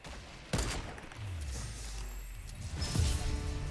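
Minigun fire in the Fortnite battle royale video game, a sustained loud mechanical burst with thuds and a low whirring tone running under game effects, swelling toward the end.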